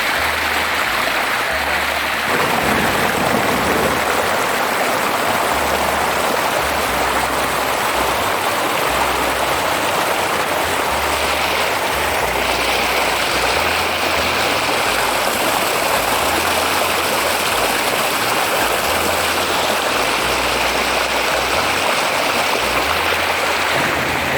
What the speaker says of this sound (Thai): น้ำไหลแรงครับกระแสน้ำแรง